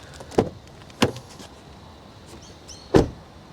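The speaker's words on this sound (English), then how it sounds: "Just listen to this door thud." Three solid door thuds from an MG4 XPOWER car, close by, spaced apart with a brief pause between the last two, no talking.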